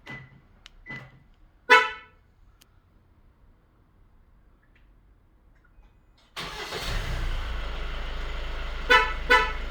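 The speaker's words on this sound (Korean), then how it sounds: "원격 시동을 걸어보겠습니다." Two short beeps, then a single honk, a quiet pause, and a 2020 Kia Carnival engine remote-started, turning over and settling into a steady idle with a couple more chirps.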